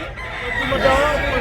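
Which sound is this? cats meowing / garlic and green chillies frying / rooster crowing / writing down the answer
rooster crowing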